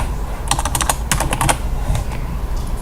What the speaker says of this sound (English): we're going to type in sales or promotion departments